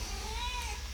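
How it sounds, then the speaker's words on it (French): A single close, rising-and-falling meow from a house cat, lasting under a second over a low hum. "C'est mon chat qui miaule, je suis désolé."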